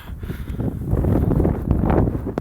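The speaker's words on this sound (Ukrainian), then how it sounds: "ось такий дурний скажений вітер дує" Strong, gusty wind buffeting the microphone in an open field in Mykolaiv during harrowing, a loud continuous roar with rustling, close and without speech.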